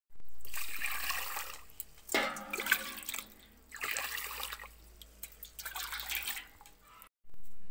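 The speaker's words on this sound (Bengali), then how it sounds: "চলো কুকারে চালটা নিয়ে নিছি, এখন ধুয়ে বসিয়ে দেবো" Rice being washed in water for a pressure cooker sloshes and splashes in several bursts, with trickling and dripping between them, close and fairly quiet.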